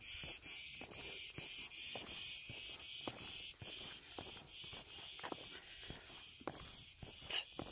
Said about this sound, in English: Are these cicadas? Is that the real name for them?